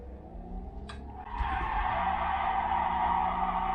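A car in a racing simulator game skids after a yank of the handbrake, the engine note giving way to a loud, sustained tire screech that holds steady to the end.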